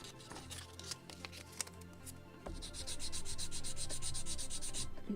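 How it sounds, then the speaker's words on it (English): Sandpaper rubbing a small piece of wood for a model gun carriage of the 1776 gunboat Philadelphia, scratchy strokes at first, then a steady, louder rhythmic sanding run of quick back-and-forth passes, close and alone. "take a small piece of wood, sand it, polish it"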